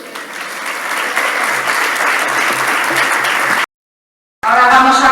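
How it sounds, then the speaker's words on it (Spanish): Audience applause at an emergency medicine conference session, a loud sustained burst of many hands clapping that cuts off abruptly, then a brief pause before a different sound resumes. "Ahora sí podéis aplaudir."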